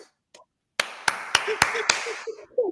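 A single person gives five sharp, close hand claps at an even pace of roughly three per second, with brief bits of a voice before and between them.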